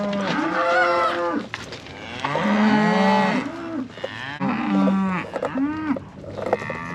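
Cows bellow on a farm pen holding cull cows, several long, loud, drawn-out moos in succession, close by and overlapping with brief gaps between calls.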